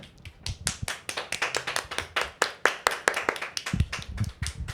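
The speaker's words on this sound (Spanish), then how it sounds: "la recibimos con un fuerte aplauso" A small audience claps to welcome a speaker, with sharp, distinct individual handclaps in a close, quick irregular patter that continues steadily without talk.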